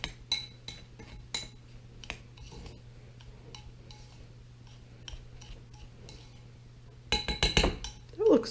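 Butter and sugar for a pie crust are mixed in a bowl, with a spoon lightly tapping and clinking against the sides. A louder cluster of knocks comes near the end.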